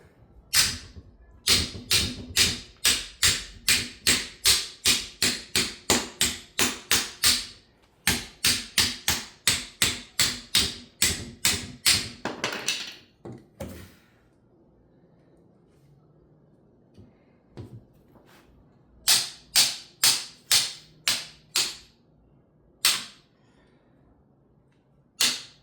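Leaf springs for a 1968 Scout 800 are straightened with repeated sharp hammer blows. Fast runs of close, loud strikes come in bursts, then pause before a few more isolated hits.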